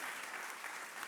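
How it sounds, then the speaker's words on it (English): Sustained applause from a conference audience for a panel of speakers at the NOGOF event, a dense, steady patter of many hands clapping throughout the brief moment. "please a warm round of applause for all of our panelists"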